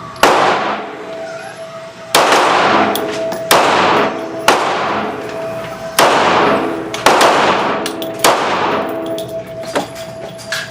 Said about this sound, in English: next up, we'll be shooting 5 shots of the Hornady Critical Defense.